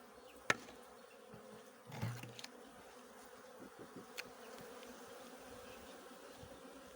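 Honeybees buzz around an open hive holding thirteen frames during a spring colony inspection, a faint steady hum with a few nearby rustles and knocks and no one talking.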